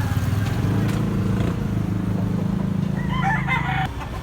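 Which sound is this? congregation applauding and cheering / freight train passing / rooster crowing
rooster crowing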